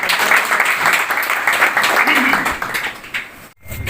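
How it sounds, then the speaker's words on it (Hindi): Loud, close crowd applause at a sarpanch association honouring ceremony in a village setting. Dense clapping runs for about three and a half seconds, then drops out abruptly before a short burst of other sound. "तो इनके लिए एक बार जोरदार ताली।"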